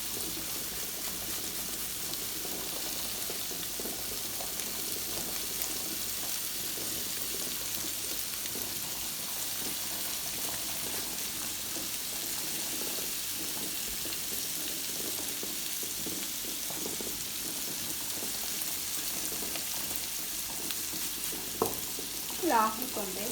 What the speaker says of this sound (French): Là on va commencer à mettre de l'ail.